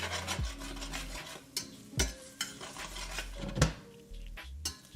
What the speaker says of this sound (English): let's give our guanciale a little stir, a little agitation here in the pan